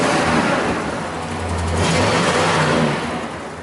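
A Dodge 300 Club Cab dually one-ton classic truck with a possible RV cam and a slight exhaust leak revs its engine up and back down. The engine is loud, close and steady, with nobody talking over it.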